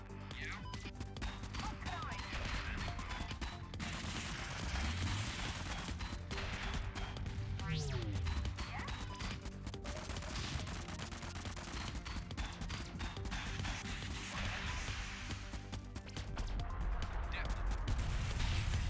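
Combat in the vehicle game Convoy, set in desert sand, with a missile strike among steady crashing and gunfire-like bursts that fill the whole stretch, while someone talks over it excitedly.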